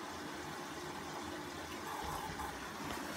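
A Hoover Optima 7kg washing machine on a short wash fills with rinse water, a faint steady gushing and pumping hiss that runs continuously with no voices.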